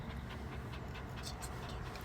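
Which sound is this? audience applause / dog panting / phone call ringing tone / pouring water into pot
dog panting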